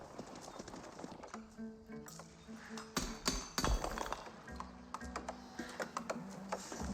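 Horsemen in Age of Empires 4 trot with steady clip-clop hoofbeats, mixed with occasional neighs, clinking and battle clatter in busy game ambience.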